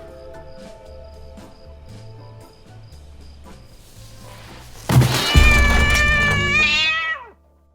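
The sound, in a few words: person imitating a cat meowing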